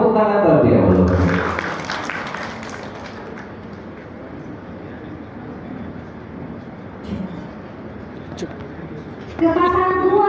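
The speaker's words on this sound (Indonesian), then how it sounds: "kita berikan tepuk tangan terlebih dahulu" Speech gives way to audience applause at a public speaking event, a steady wash of clapping from many people. It holds for several seconds at moderate level before the speech resumes.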